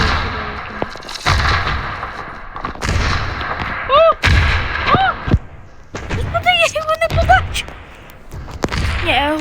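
Grenade blast in the mobile shooter Standoff 2, heavy booming explosions and gunfire thuds mixed with game effects, with a player talking over the action.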